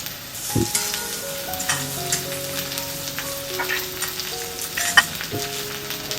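Curry leaves spit and crackle in hot oil, a close, continuous sizzle with scattered sharp pops, while faint tonal sounds hum in the background.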